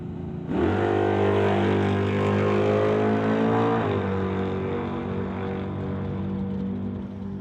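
A 1967 Dodge Dart drag car with a late-model Hemi engine roars loud and close, revving hard and rising in pitch, then settling into a sustained heavy drone that fades only slightly.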